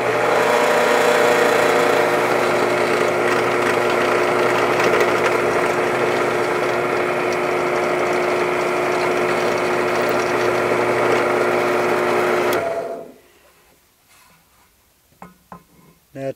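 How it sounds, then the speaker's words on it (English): A power drill with a 3/32 bit bores a pilot hole into clamped wooden pieces, a loud continuous motor whine for about twelve seconds that abruptly stops, followed by a few faint clicks and handling noises. "I'll drill a hole, a pilot hole for the screw"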